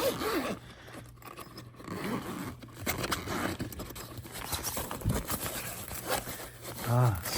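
A cool bag's zipper is pulled open in short rasping strokes, close by, with rustling and scraping of fabric and a brief voice near the end.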